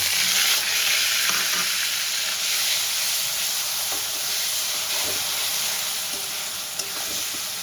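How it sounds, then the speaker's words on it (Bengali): Onion paste sautéing in hot oil in a pan, with a loud, steady hissing sizzle and occasional soft stirring scrapes, heard up close with no talk. "পেঁয়াজের পেস্টটা দিয়ে আমি ভালো করে কষাবো"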